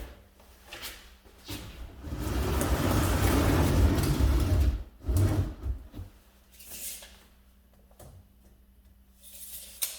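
A long mechanical whir of a Tesla falcon wing door swinging open, steady for a few seconds, followed by a few softer thumps and clicks.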